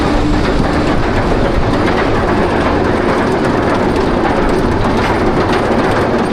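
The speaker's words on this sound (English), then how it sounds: "This here is Falcon, Wuxi Sunac Land, the largest of the B&M wing coasters." Ride on Falcon, a B&M wing roller coaster at Wuxi Sunac Land, from the back row: loud continuous rumble and rushing wind of the train on the track, steady throughout without talk.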